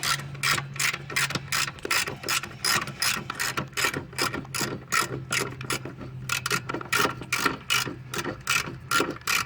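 Rapid, steady ratchet clicking while brake caliper bolts are loosened on a 2005 Toyota Camry during rear caliper, rotor and pad work, a close, continuous run of sharp mechanical ticks with no talk.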